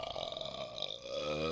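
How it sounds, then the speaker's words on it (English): A single drawn-out burp from a man, close and fairly quiet, heard alone without talk. "Burp."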